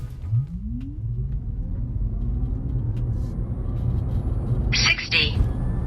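A Tesla Model Y Long Range accelerates hard during a performance run, with a deep road rumble and a rising electric-motor whine that climbs steadily in pitch. A short burst of other noise comes near the end.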